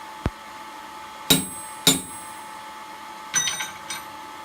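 A blacksmith hammers to punch a hole in hot steel for a wall hook, giving a few loud, sharp metallic strikes spaced apart, each ringing briefly before fading.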